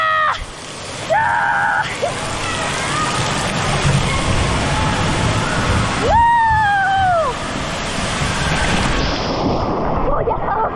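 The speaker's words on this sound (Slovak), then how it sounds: "Ide voda!" Water rushes steadily down a children's water slide at the Bešeňová aquapark, a loud continuous broadband wash, while voices shout and call out over it now and then.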